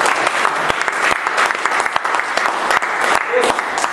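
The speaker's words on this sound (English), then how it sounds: "Let us give a round of applause." A Toastmasters meeting audience gives a loud round of applause, dense clapping with distinct individual claps, held steady and close for several seconds.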